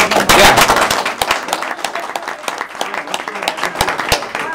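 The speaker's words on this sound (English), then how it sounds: "let's just give them a round of applause" An audience applauds student presenters, a dense burst of clapping at its loudest at the start that thins into scattered claps, with a few voices mixed in.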